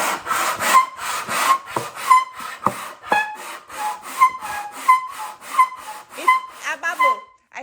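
Rhythmic rubbing of a cello rib across a flat surface, a wooden scraping stroke repeating about a dozen times with a squeaky, whistling squeeze on each pass, close and clear, with no talk.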